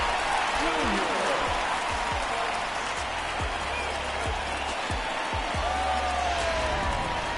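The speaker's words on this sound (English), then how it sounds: "Look at this crowd on its feet, hoping to see home run number 99" A baseball stadium crowd in MLB The Show 19 roars steadily as fans stand hoping for a home run, a dense continuous wash of cheering with scattered claps and thumps throughout.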